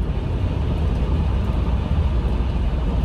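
A 4x4 Ford Explorer truck cruising at 80 mph gives a constant low road and engine rumble inside the cabin. The drone is even and unbroken, with no talking.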